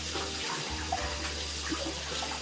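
Tap water runs steadily into a sink while lamb chops are washed with vinegar before cooking, a continuous close hiss and splash with no talking.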